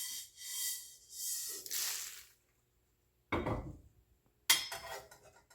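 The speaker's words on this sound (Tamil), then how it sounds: "இப்போ நாங்கள் வெந்தயத்தை வெளியில் எடுக்கலாம்." Roasted fenugreek seeds scraped and tipped out of a pan, with soft rattling scrapes early on, a pause, then two sharp metallic clanks of the pan being set down, fairly quiet and close.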